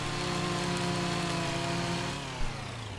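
A chainsaw cuts a tree in a video game, its engine a loud, steady, buzzing drone for about two seconds before the pitch drops as it slows. It plays with no talking.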